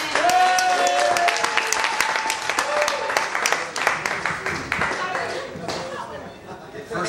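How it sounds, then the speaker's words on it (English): Audience applause for Stephen Gaskin at a seminar gathering: a dense, steady wash of clapping that holds loud for several seconds, then thins slightly toward the end, with voices talking over it. "Give him a round of applause for Stephen."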